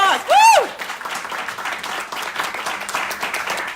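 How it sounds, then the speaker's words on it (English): An audience at a book launch breaks into a round of applause, opening with a loud rising whoop before a dense, steady patter of clapping carries on to the end. "Let's give each other a round of applause."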